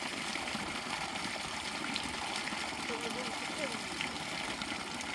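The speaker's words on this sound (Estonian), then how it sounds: "See tuleb nüüd jääkülm vesi." Ice-cold water flows in a steady, rushing gush from a source on a hike in the Tatra mountains near Zakopane, continuous and close, with faint voices mixed into the background.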